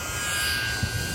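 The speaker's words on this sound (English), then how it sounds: "You can't fly a mini drone in the wind." A Holy Stone HS420 mini drone flies outdoors on a calm day beside a pond, its steady high-pitched propeller whine continuous and fairly loud throughout, with no talking.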